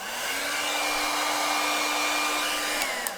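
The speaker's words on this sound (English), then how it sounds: "Okay, hold your ears. Here's the hair dryer." A hair dryer whirs loudly and steadily at close range, a continuous high-pitched blowing whine with no speech.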